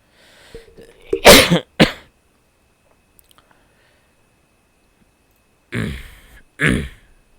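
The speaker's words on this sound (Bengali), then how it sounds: "একটু কাশি ঠান্ডা লেগে গেছে" A man coughs with a cold, giving a harsh burst of coughs early and two more coughs toward the end, close and loud, separated by near silence.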